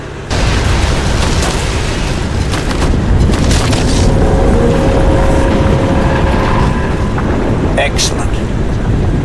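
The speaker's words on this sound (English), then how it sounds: "Explosion imminent." Crysis 2 game explosion, a loud sustained rumbling blast that fills the whole clip with dense low roar and crackling debris, followed by a brief sharper burst near the end.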